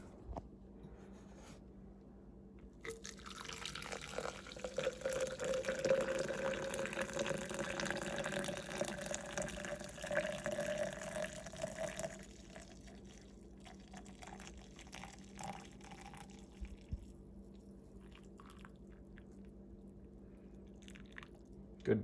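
Coffee pours from the spout of a flask in a continuous liquid stream that swells and trails off over about ten seconds, close and fairly quiet, followed by small handling sounds.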